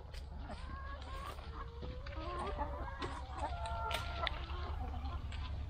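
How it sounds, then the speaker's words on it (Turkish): Chickens clucking and calling at close range while pecking at lemons in a lemon orchard at harvest time, with busy overlapping chirps and clucks over a steady low rumble of outdoor background noise. "Bir de tavukların limon yediğine şahit oluyorum."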